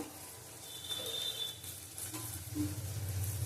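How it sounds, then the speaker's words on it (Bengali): Tomato pieces added to a hot frying pan give a steady, moderate sizzle with light stirring scrapes and faint utensil clinks, close by with no talking. "এই দেখো টমেটোটা দিয়ে দিলাম।"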